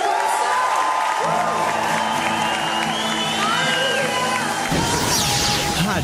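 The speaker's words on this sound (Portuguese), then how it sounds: "E aplauda o Senhor com toda a força do seu coração." Audience clapping and cheering along with live worship music at a Christian gospel program, a steady wash of applause and crowd noise beneath the singing and instruments throughout.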